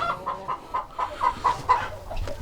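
Free-range backyard farm chickens cluck in a steady run of short, repeated calls, fairly close and moderately loud, with no talking over them.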